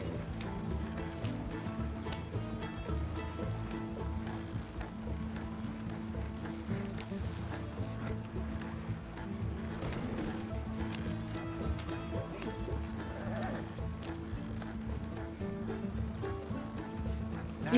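A horse's hooves clip-clop at a steady gallop in the video game Red Dead Redemption 2, a continuous rapid drumming on the ground mixed low with game music and ambient sound, with brief talk over it.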